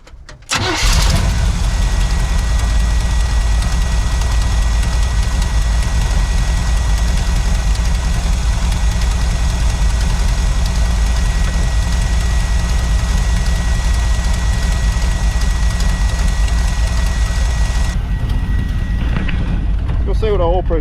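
A 1976 Chevy K10 pickup truck, abandoned for ten years, runs at a steady idle throughout, its loud, continuous rumble close to the microphone, fading slightly near the end.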